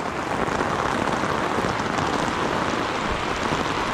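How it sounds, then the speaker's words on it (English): Rain falls steadily on a canvas swag tent, a dense, even patter heard up close for a few seconds with no voices over it. "Just get a close-up of the rain happening on the swag."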